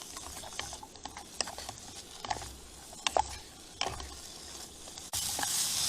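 Balsamic reducing and sizzling in a pan over a campfire with lamb chops and Spam, a steady crackling fry punctuated by sharp clicks and scrapes of utensils, growing louder at the end.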